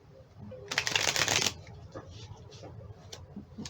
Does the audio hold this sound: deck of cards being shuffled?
yes